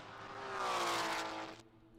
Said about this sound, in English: Watch the Ferraris heading up through the S's into the carousel as Johnny rounds the hairpin one more time.